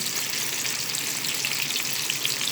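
Meatballs shallow frying in oil give off a steady, dense sizzle with a bright hiss that runs unbroken and fairly close, with no talking over it.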